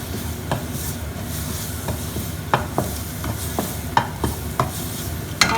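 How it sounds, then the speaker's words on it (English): Steady sizzling of turmeric frying in a hot pan over a very low flame, with occasional scraping and stirring clicks of a utensil scattered throughout. "I'll be frying it till the rawness goes."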